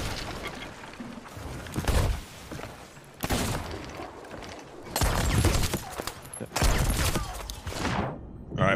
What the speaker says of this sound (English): Chain shots on the hull.